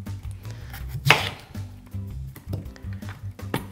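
A kitchen knife cutting through food on a cutting board while making mango salsa, one sharp close chop followed by quieter board taps and handling noises.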